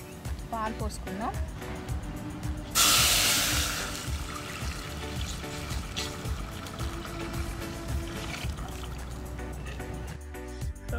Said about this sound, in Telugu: పాలు పోసుకుందాం.